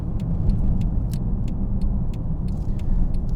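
A 2016 Mercedes CLS63 AMG with its 5.5-liter V8 on the move, a steady deep rumble of engine and road noise from inside the cabin, with faint clicking and ticking on top, no talk.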